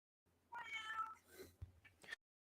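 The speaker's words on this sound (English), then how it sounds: "And that cat is making all the noise." A domestic cat meows several times in a row, close and clear, in a quiet room, its cries rising and falling with short pauses between them.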